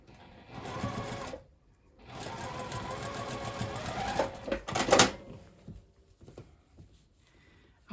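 A sewing machine top stitches a paper pieced zipper pouch in two close, rapid mechanical runs separated by a short pause, followed by a few sharp clicks and then quiet.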